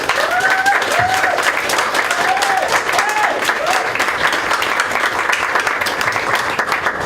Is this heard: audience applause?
yes